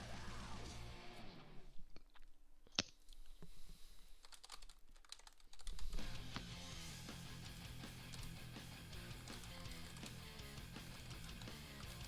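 Close computer keyboard typing comes in bursts of rapid key clicks over a low background hum, with a quieter pause partway through before steady clatter resumes.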